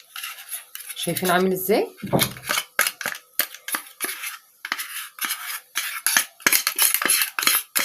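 Thick homemade tahini paste is scraped out of a grinder into a plate, with a series of sharp metallic clinks and scrapes of a utensil against the container and dish. Someone speaks briefly near the start.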